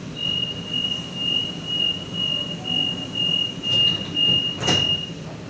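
A Sydney T8 Airport line train rolls along under steady rumble, a thin sustained wheel squeal running throughout, with a sharper screech near the end.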